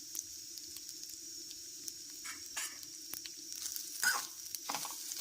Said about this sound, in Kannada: ಈ ರೀತಿ ಕಾಯಿ ತುರಿ ಕಲರ್ ಚೇಂಜ್ ಆಗೋ ತನಕ ಹುರ್ಕೋಬೇಕು